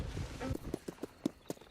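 Horse hooves clip-clopping at a walk in Red Dead Redemption 2 Online, a steady run of distinct, moderately close hoofbeats with faint background ambience.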